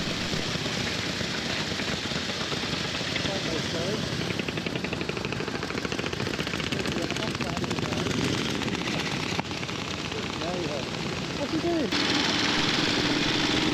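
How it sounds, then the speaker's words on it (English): A pre-1919 veteran motorcycle's engine starts and runs at a rally on a Bundaberg road, a loud, continuous rapid popping exhaust beat that carries throughout, close to the listener, with faint voices in the background. "With that, we've got our bike started and we'll be on our way too."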